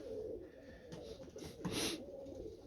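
Pigeons coo softly in a bird loft: a few low, throaty coos at close range over a quiet background.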